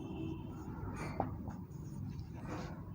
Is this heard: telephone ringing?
no